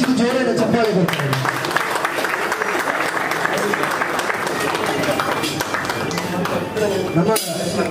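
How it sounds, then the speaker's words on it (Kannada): A crowd claps loudly for the Tulu film Pulimunchi at its launch event, a dense, continuous burst of applause that goes on while someone speaks over it. "ನಮ್ಮ ಸಿನಿಮಾಗಳ ಗುಳಿ ಮುಂಚಿಗೆ ಜೋರನ ಚಪ್ಪಾಳೆ ಕೊಡ್ತಾರೆ"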